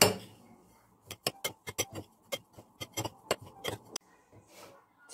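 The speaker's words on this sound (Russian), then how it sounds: "Теперь эту массу перемешиваем хорошенько." A utensil clinks and taps against a bowl while stirring a chocolate candy mixture with coconut flakes, walnuts and almonds, quick irregular clicks in bursts, close and fairly quiet.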